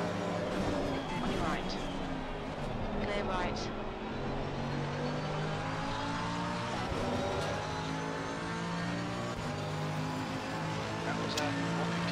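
Race car engine in Assetto Corsa Competizione, heard in VR during an online league race, roaring steadily with shifting harmonic sweeps as the car brakes early into a corner among other cars, continuous and loud throughout.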